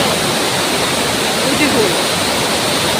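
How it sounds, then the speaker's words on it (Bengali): Water from a lake outflow pours down a small waterfall in Keonjhar, Odisha, a loud, steady, broadband rush that fills the whole clip close to the listener without letting up. "এই দেখ ওই জলটা এখান দিয়ে এসে এখানে পড়ে যায়।"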